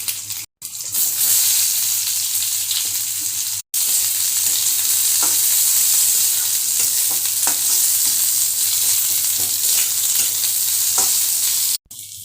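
Dry chili, cumin seeds and onion sizzle steadily in hot oil in a wok as a dal tempering, a loud continuous fry with scattered pops and stirring clicks, broken by a few short dropouts.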